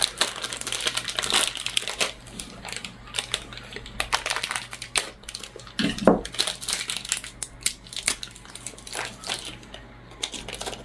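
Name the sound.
opening a crinkly MRE nut raisin mix packet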